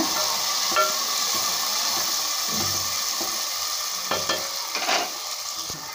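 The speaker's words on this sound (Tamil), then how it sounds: "தக்காளி பெருசாக 1 எடுத்து கட் பண்ணி வச்சுருக்கேங்க, அதையும் போட்டுடலாங்க. அப்படியே மல்லி கருவேப்பிலை போட்டுடலாங்க. நல்லா வதக்கி விடலாங்க." Tomato, coriander and curry leaves being sautéed in a pan, giving a continuous moderate sizzle with a few light spatula scrapes and clicks toward the end.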